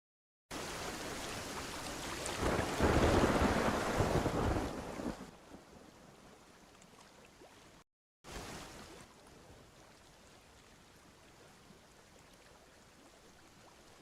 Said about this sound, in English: I've just got that hint of, torrential downpour in the background.